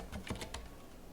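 Several quick keystrokes on a computer keyboard, typed in Russian, come in a short soft burst, faint and close over a low background hum.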